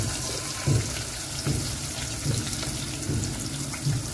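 Onion pieces dropped into hot oil in a pan for a drumstick and tomato curry: a steady sizzle and crackle with soft, regular stirring or tossing thumps about every 0.8 seconds.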